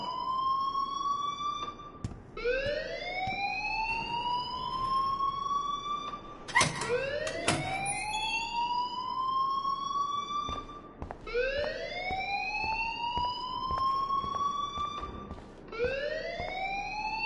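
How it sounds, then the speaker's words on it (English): A school alarm in Life is Strange blares in repeated rising electronic wails, each sweep climbing and holding before restarting, loud and continuous with a few brief sharp clicks mixed in. "please turn off that alarm since that's your job"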